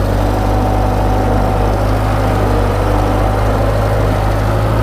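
The engine of a broken-down 1970s skid steer idles close by, a loud, steady low drone with a continuous hum and no voices.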